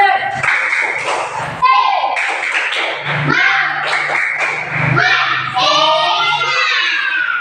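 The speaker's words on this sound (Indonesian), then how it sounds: "Coba dulu, tepuk semangat." A classroom of children performs a rhythmic spirit clap, with steady claps and taps mixed into their loud group chanting and voices throughout.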